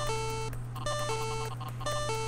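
An electronic Pal Percy toy in a video game emits repeated tonal beeps in three short bursts over a steady low hum, faint and regular.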